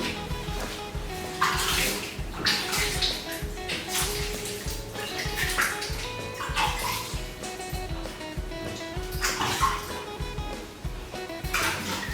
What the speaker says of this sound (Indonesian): Saya cuci tangan dulu.